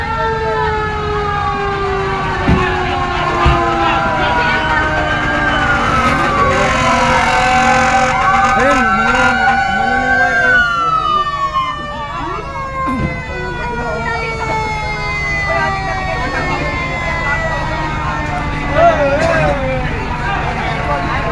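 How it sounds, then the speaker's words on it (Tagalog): A fire truck siren wails continuously with rising and falling tones, loud and close, arriving at a fire over a busy crowd murmur and traffic. "Parating pa isang bumbero guys."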